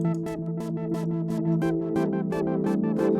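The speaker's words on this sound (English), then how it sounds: "Turn on the frequency echo," A retro synthesizer tone run through a Valhalla Freq Echo delay plays a steady, dense sequence of repeating notes with rhythmic bright bursts, the echoes smearing into a wide, moving wash with no voice.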